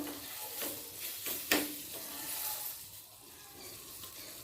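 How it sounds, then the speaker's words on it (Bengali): Chopped garlic sizzling in melted butter, a quiet close crackle with a few stirring scrapes and one sharp click around 1.5 seconds, fading slightly toward the end. "মাখনটা মেল ধরার সাথে সাথে দিয়ে দিচ্ছি রসুন কুচি"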